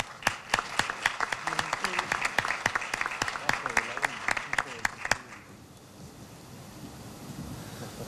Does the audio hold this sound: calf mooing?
no